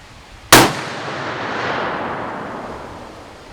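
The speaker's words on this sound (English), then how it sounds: "I'm going to shoot the bottom right target this time" A .45 caliber smokeless muzzleloader fires a single loud, sharp shot at a target, the crack trailing off into a long echoing decay that lingers for a few seconds.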